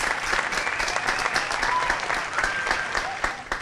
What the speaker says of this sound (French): à qui je demande d'applaudir très très fort